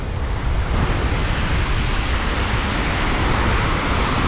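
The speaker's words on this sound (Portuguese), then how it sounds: "Porque aqui o vento tá brabo," Strong wind roaring across the microphone at Praia dos Anjos beach in Arraial do Cabo, a dense, steady broadband rush with no talking, loud and constant for the whole stretch.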